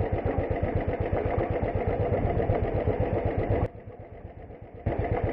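Off-road vehicle engine pulling in second gear on a rough trail, a loud, close, steady chugging drone that drops briefly to a quieter idle before surging back.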